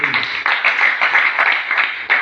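A church worship congregation claps their hands for Jesus in a quick, steady rhythm, loud and close, with many palms striking together.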